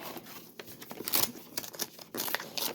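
Wrapping paper is torn and crinkled off a gifted book in several quick ripping bursts, close and fairly loud, with no talking.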